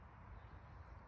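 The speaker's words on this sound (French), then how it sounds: "je pense que les grillons étaient déjà là du temps de" Crickets chirp in a continuous high, shrill trill outdoors, steady and even throughout. A soft low background hum from distant traffic and electricity sits beneath them.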